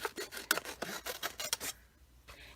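Scissors snip around a paper coloring book page in a quick series of rasping cuts, each closing with a crisp slice, close and fairly quiet, ending in a short pause and a final brief snip.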